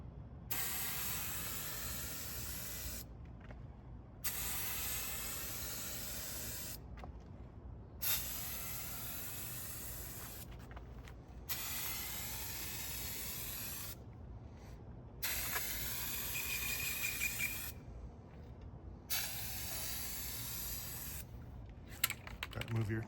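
Primer sprayed from a $50 turbo spray can onto a Mercury Monterey S-55: steady, close hissing bursts of several seconds each, separated by short pauses, with faint handling noise in the gaps.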